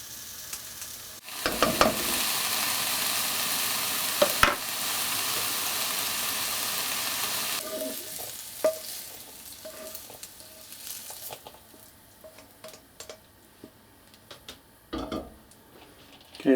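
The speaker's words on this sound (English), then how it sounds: "I'm just cutting up some bacon which I can start frying off" Bacon frying in a pan, a loud steady hiss of sizzling fat that drops to a quieter crackle with scattered pops and clinks of a utensil stirring.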